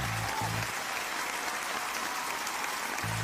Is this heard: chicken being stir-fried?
no